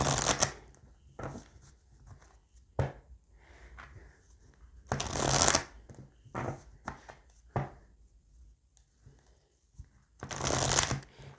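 Oracle cards are shuffled by hand in several separate bursts of riffling and sliding, close and crisp, with quiet pauses between them.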